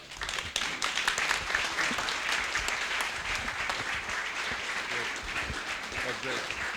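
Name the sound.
audience applause after keynote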